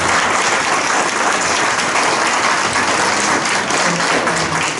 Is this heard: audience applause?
yes